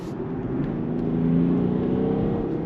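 A BMW 330d Touring estate with a 286-horsepower six-cylinder diesel pulls hard under acceleration in sport mode, a steady deep drone with rising harmonic tones, loud and close with no talking.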